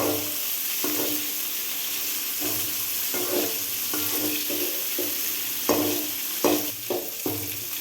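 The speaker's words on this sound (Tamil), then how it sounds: "கொஞ்சோண்டு வெங்காயத்தை வச்சியும் போட்டு வதக்கிக்குவோம் ஃப்ரெண்ட்ஸ் நல்லா வடங்குற அளவுக்கு நல்லா வதக்கணும்" Chopped onions sautéing in a pan for a vallarai leaf thuvaiyal, with a steady hiss of frying oil throughout and repeated clinks and scrapes from a spatula stirring, some strokes louder near the end.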